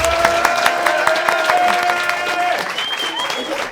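Applause from a comedy show audience, steady and moderately loud, with tonal voices or whoops layered over the clapping throughout.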